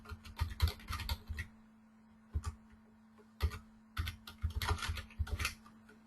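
Typing on a computer keyboard, coming in bursts of quick, crisp key clicks separated by short pauses, close and moderately quiet over a faint steady hum.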